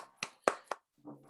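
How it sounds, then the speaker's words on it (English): During an online conference session, three separate, sharp hand claps ring out at an even pace, close and fairly loud. A voice begins speaking right after them. "put your hands together for Tim. So we can hear the claps and see them"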